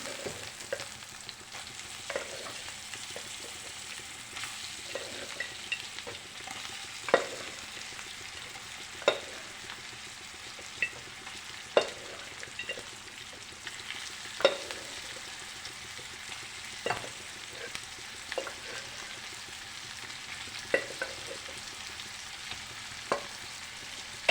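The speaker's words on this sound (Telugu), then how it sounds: "ఫ్రై అయింది మొత్తం మటన్ యాడ్ చేద్దాం" Mutton fries and sizzles in a pan, with a constant hiss of hot oil and a spoon scraping and stirring at irregular intervals. The cooking is close and fairly quiet, and no one speaks.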